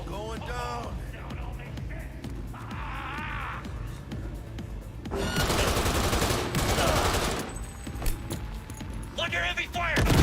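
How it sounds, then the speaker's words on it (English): Gunfire erupts during a firefight in the video game Cyberpunk, with bursts of shooting and loud, dense noise under game voices and background sounds, growing heavier midway through. "Under heavy fire."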